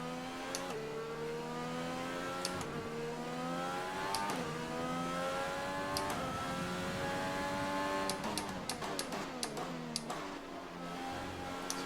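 F1 2020 Formula One car engine from a racing video game, revving high and steady with rising and falling pitch sweeps, sharp gear-shift breaks and ticking clicks throughout, loud and continuous without speech.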